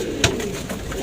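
Domestic pigeons coo softly and close by in a brief low murmur, with a short sharp knock near the start against a steady background hum.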